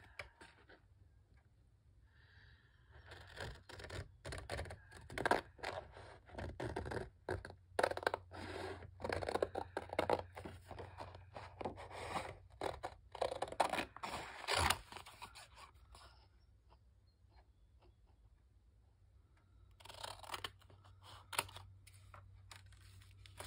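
Paper being cut out by hand for a crafting project, a series of close, quiet snips and scraping rustles in irregular bursts with pauses between them.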